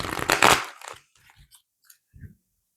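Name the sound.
shuffling tarot cards (Modern Witch Tarot)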